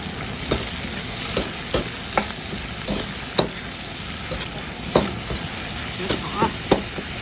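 Twice-cooked pork with onion, chili and salt, Guizhou fermented black bean style, stir-fried in a wok: a steady loud sizzle with a spatula scraping the pan at a regular beat, roughly every half second to second, no talk.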